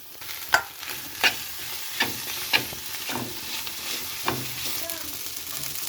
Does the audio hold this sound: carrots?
yes